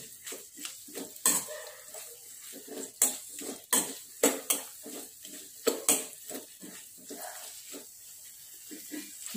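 Masala-marinated chicken liver and pieces sautéing in hot oil in a home kitchen pan, with a soft sizzle under repeated clanks and scrapes of a metal spoon stirring against the pan.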